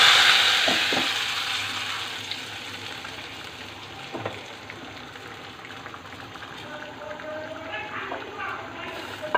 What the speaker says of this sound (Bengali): বাগারটা আমার হয়ে গেছে, এখন ডালের ভিতরে দিয়ে দেব।